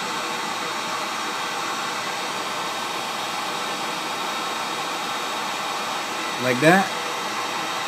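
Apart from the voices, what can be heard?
hot air blowing on solder during USB port replacement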